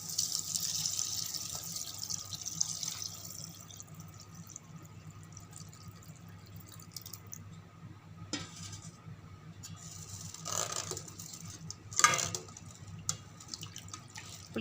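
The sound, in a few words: tamarind water poured into fish curry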